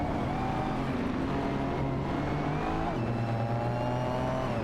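Several race cars in an AI-driven racing game, including a Mercedes-AMG C63S, roar close by with engines rising and shifting pitch as they overtake one another, a steady loud drone throughout with a drop in tone near the three-second mark.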